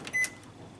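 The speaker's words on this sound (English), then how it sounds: "I'll just heat it up in the microwave" Short electronic beep from a microwave oven being set to heat a cup of tea, a single tone over a faint hum, close and clear.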